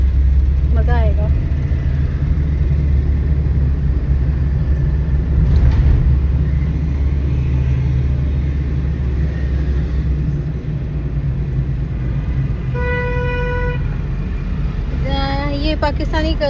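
A car driven slowly through city traffic in Pakistan, a loud, steady low engine and road rumble filling the cabin, with someone talking over it and brief horn-like tones near the end.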